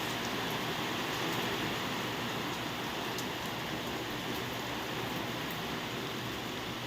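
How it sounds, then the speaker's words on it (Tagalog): Steady, quiet rain hisses continuously, with no voices and no breaks. "Ay, ulan, tumila pa kasi aalis kami."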